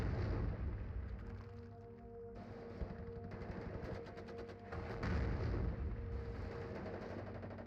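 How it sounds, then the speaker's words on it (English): Artillery strike in the WARNO real-time strategy game: a steady rumble of distant blasts and shots, with heavier bursts near the middle and end, and no voices. "there has been an artillery strike called on over here"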